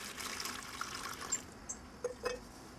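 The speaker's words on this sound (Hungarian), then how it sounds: "előbb egy kis vizet rakok bele." Water pours steadily into a container before tile adhesive is mixed in during bathroom tiling, a soft continuous splashing fill with a few brief drips and clinks near the end.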